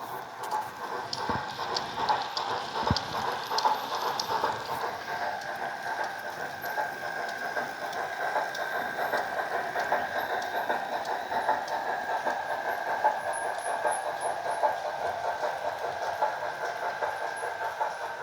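A homemade HO scale Allegheny 2-6-6-6 model locomotive hauls a 50-car train along the track, giving steady light clicking and rattling with a few sharper ticks at moderate, even volume throughout.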